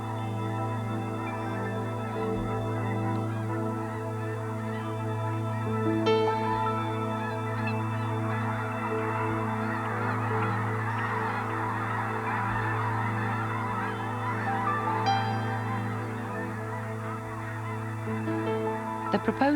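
Young snow geese, hatched this year in the Arctic and arriving in early autumn, honk steadily over a constant low hum, with a dense overlapping chorus of calls throughout.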